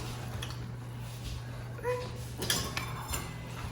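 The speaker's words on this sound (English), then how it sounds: "Just going to stir that to integrate it." A rubber spatula stirs white and brown sugar into brownie batter, making faint scraping and a few light clinks against the bowl over a steady low hum.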